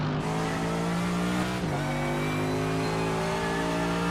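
A race car in the iRacing sim at Oulton Park powers out of a hairpin, its engine climbing steadily in pitch after a brief dip, loud and close with a faint squeal of tires.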